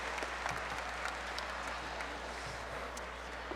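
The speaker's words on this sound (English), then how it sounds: "Let's give a round of applause to the graduates of the Bachelor of Science in Urban Studies and Planning." Steady, distant applause from a commencement audience for graduates at a university ceremony, a sustained wash of many hands clapping with no break.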